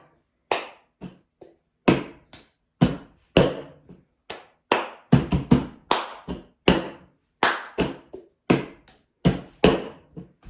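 Cup song rhythm played alone, crisp hand claps mixed with hollow taps and knocks of a cup on a table, sharp percussive hits in a repeating pattern with short gaps, close and clear with no voices.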